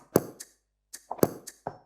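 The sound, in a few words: hand percussion and mouth hi-hat in a track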